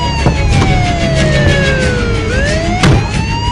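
An ambulance siren wails through Istanbul traffic, its sweeping tone gliding down and then rising again, loud and near over a steady rumble of road noise.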